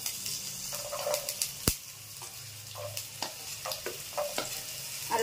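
Small pieces of potato fry in an oil-filled pan with a steady low sizzle, broken by repeated light scrapes and stirring clicks and one sharper knock, with no talking.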